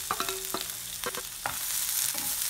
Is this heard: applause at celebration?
no